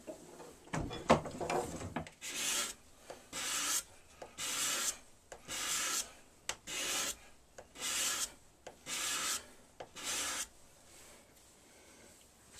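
A sharpened steel cabinet scraper is drawn across wood in about eight rhythmic, evenly spaced rasping strokes, each a brief hissy scrape peeling off fluffy shavings, close and fairly quiet.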